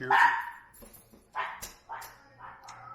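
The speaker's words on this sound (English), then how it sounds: "there goes my dog" Dog barking indoors, a loud close bark followed by several quicker, softer barks within a few seconds, with no talking.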